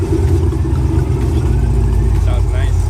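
Supercharged 650hp Corvette Z06 V8 with a ProCharger intake and loud exhaust, running steadily with a deep low rumble close by for the whole stretch, while voices talk over it.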